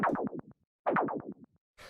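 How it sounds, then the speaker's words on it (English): White noise runs through a bandpass auto filter driven by a saw-down LFO at sixteenth notes, producing two quick rhythmic runs of choppy, falling pulses separated by a short gap, fairly quiet and alone. "this auto filter, which is on a bandpass, and then I've got it doing the saw down waveform"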